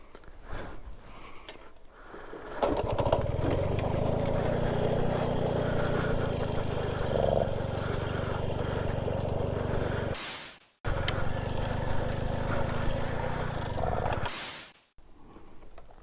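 Engine starts and runs steadily on a vehicle recording its own sound after a fuel shortage, a loud sustained rumble with two brief dropouts near the end.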